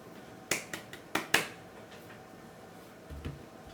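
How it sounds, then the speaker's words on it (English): A few sharp hand claps, four or five quick close strikes, sound in a quiet room with no talking. "Claps for that."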